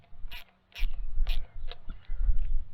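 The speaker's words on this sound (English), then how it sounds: "you're going to take your socket wrench, and this is just a 5/16 socket" A ratcheting socket wrench with a 5/16 socket tightens nuts on a homemade clothesline, several short clicking bursts in quick succession, close and fairly loud.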